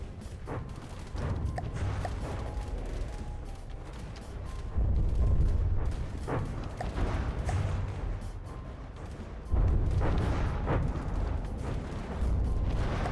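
Light cruiser guns fire steadily in From the Depths, a dense run of booming, rumbling shots with heavier blasts recurring every few seconds over a continuous roar.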